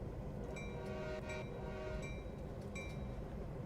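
A GP9RM diesel locomotive in Canadian National livery rumbles into motion in Train Sim World, a steady low engine drone with faint clanking and brief high squeals over it.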